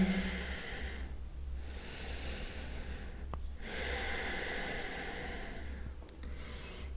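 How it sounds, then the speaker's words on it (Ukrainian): Slow, deep breaths during a yoga split stretch, heard close and fairly quiet as a few long airy inhales and exhales in an even rhythm, with no talking. "Дихаємо, допомагайте собі диханням розслабитися."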